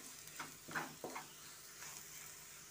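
Potatoes with garam masala in a pan for masala dosa filling, stirred with a few soft scraping strokes over a faint, quiet sizzle.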